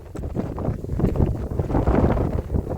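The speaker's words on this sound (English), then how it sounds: "It is so windy up here." Strong wind buffets the microphone on a mountain stretch of the Camino Finisterre trail, a loud, close, gusting low rumble that swells and eases without pause.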